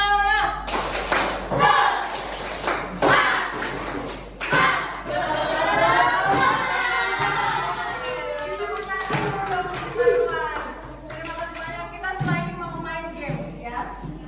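A class performs the 'tepuk semangat' clapping routine: a group claps in patterned, rhythmic bursts of sharp taps, mixed with chanting voices and a teacher speaking over the top.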